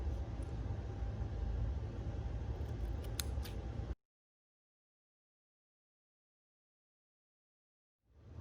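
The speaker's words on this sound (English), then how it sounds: "what I'm gonna do is trim them. I just cut them." Scissors trim paper towel nail extensions in a few close, crisp snips over steady background hiss, then silence follows until faint noise returns at the very end.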